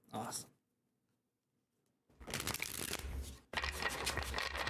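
A tarot deck riffles in two fast, crisp bursts after a short pause, close and loud, the second shuffle running straight into a rapid bridge.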